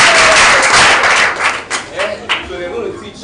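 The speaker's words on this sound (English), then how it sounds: "Clap for me now" A group in a classroom-style lesson claps loudly together for a couple of seconds, the dense clapping then breaking into a few scattered claps as voices rise over it.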